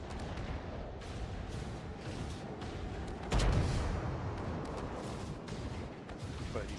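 Ship guns boom across a naval wargame video game battle, a steady rumble of distant firing broken by one heavy, close blast midway, then continuing salvos underneath.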